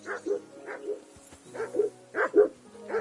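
A dog in the medieval game Kingdom Come barks in short, insistent bursts, several close sharp barks in an uneven rhythm with no talking over them.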